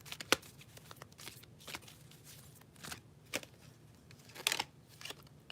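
A deck of cards is shuffled by hand, giving quiet bursts of riffling and flicking with short sharp snaps spread irregularly through an otherwise hushed room, with no talking.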